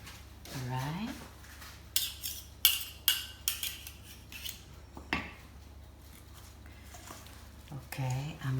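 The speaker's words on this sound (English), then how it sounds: "Okay, I'm going to mix this" Utensils clink and scrape against a bowl as potato salad with mixed vegetables is stirred, a few sharp clatters clustered in the middle, with brief speech at the start and end.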